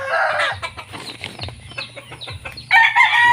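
Free-range chickens cluck and squawk in bursts close by, with a louder flurry of cackling toward the end over low background rumble.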